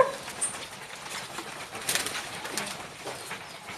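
Young pet pigeons coo softly in a loft amid a faint chirp and light rustling, close and quiet, with no one talking.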